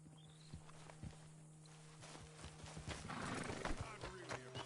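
Horses in the Red Dead Redemption 2 video game, hooves clip-clopping on the ground with a whinny early on, moderately close and mixed with game ambience and characters talking.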